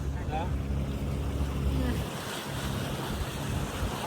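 A boat travelling on the sea off Alaska, with a steady engine rumble, rushing water and wind buffeting the microphone, loud and continuous, while a person speaks over it.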